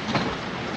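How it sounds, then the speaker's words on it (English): Freight train rolling along the rails, a steady dense rumble with continuous wheel noise, close and unbroken throughout, no voices. "The transportation of choice was the freight train."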